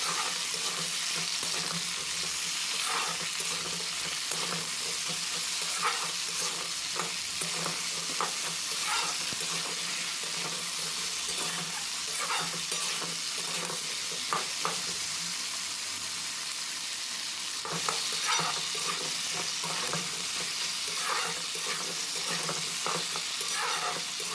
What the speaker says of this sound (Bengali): আনাজগুলো দিয়ে দু মিনিট মতো এইভাবে নাড়াচাড়া করে নিতে হবে